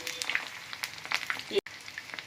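Tapioca rolls sizzle in hot oil as they are flipped, a steady close crackle with small pops and a brief clatter from the turning; a voice speaks faintly underneath.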